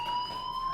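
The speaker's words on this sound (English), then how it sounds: "Hey, do you hear that fire alarm?" A fire alarm sounds continuously in the Life is Strange video game, a steady electronic tone with several sustained pitches that holds unbroken throughout, with no talk over it.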